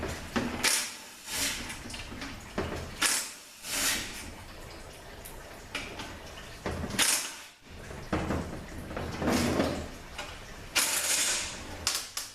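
Bolts being worked loose from a 4T60E transmission during a teardown, with bursts of ratchet clicking and metallic tool sounds coming in irregular close-up spurts and brief pauses between them.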